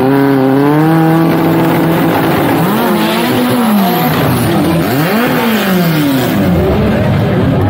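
A Chevette with a turbocharged AP 20-valve engine launches at a drag race while misfiring. Loud engine revs rise and fall, with a fluttering, uneven tone and a few bursts as it pulls away.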